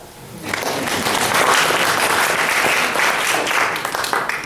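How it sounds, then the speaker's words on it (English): A church congregation breaks into sustained applause, a dense wash of clapping that swells quickly, holds steady for several seconds and then tapers off, with no talking over it. "Everybody applaud."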